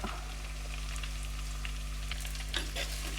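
Sliced onions hitting a pan of hot oil with curry leaves for a crab dish, a continuous close hiss under a steady low hum, with crackling spatters rising toward the end.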